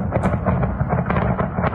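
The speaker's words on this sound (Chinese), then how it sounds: "听起来像放烟火， 但抬头看爆炸光点很可能是防空炮弹或某种集束弹药。" Anti-aircraft shells or cluster munitions bursting overhead, heard as a loud, continuous rumble of crackling pops much like fireworks, dense and sustained throughout.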